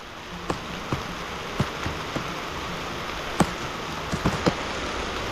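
Rain falls steadily on a bitter gourd (ampalaya) field during harvest, a soft continuous hiss with scattered sharper drop taps, heard alone without voices.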